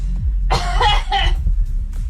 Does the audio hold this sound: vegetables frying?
no